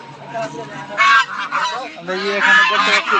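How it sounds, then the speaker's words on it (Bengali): Ducks, both local and larger breeds, quack and honk loudly at close range at a busy village poultry market, harsh overlapping calls with a burst near the middle and another toward the end. "এখানে কিন্তু রাজা হাঁসও পাওয়া যায় আবার আপনার দেশি হাঁস প্রচুর"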